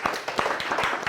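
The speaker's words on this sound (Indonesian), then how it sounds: "tepuk tangan dulu ya untuk semuanya" A classroom of students applauding together, steady dense clapping that carries on without a break through the short moment, fairly close and loud.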